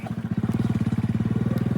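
Royal Enfield Bullet motorcycle riding along a bumpy, potholed road, its single-cylinder engine thumping in a steady, rapid rhythm close by and loud throughout, with no talking.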